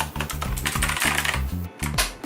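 A Sades Shield RGB mechanical keyboard typed on up close, with quick clattering key presses in an uneven rhythm that stop briefly near the end, then a few more strokes.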